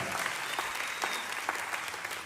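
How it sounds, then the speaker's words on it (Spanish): A church congregation claps during a sermon, a steady wash of dense applause lasting a couple of seconds with no speech over it. "Démosle un aplauso a Él"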